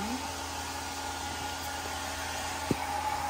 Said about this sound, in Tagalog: magbo-blower si asawa kasi bagong ligo